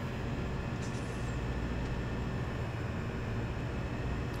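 Freight train in the game Farming Simulator 2017, running steadily between grain elevators with a constant loud rumble and rolling noise, no voices.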